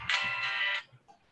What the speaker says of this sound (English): phone keeps ringing